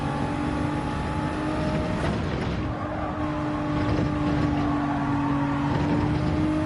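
A 2018 Nissan GT-R Gr.3 race car in Gran Turismo 7 at Spa, its engine droning loud and steady with shifting revs and gear changes, and no talking.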